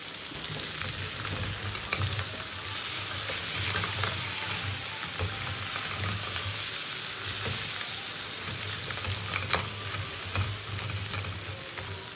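Fish sizzles steadily in hot oil in a wok, a continuous close frying hiss with faint crackles and occasional sharp pops, heard alone without talk.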